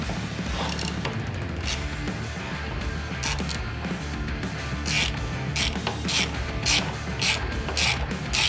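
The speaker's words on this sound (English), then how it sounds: "we'll tighten up all the bolts" A ratchet tightening bolts while a LaneSplitter accessory is fitted to a motorcycle, heard as steady, close, rapid clicking strokes in repeated bursts with metallic handling noise between them.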